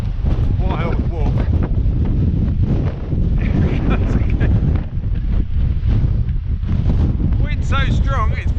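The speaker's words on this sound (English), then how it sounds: "Wind so strong it's blowing you over." Strong gusting wind on a coastal walking path in Cornwall, loud and constant as it buffets the microphone, with a low roar and intermittent rumbling gusts throughout.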